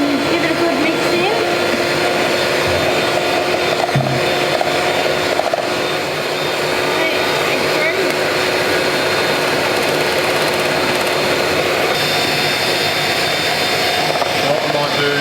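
An electric mixer with dough hooks churns egg into choux pastry dough, droning loud and constant throughout while a person talks over it.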